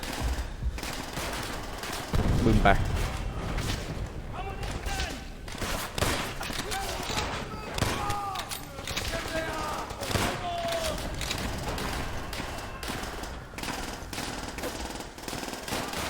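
Rapid machine-gun bursts and scattered rifle shots in the Call of Duty: World at War video game, dense, sustained gunfire with a heavy explosion early on and a voice speaking over the action.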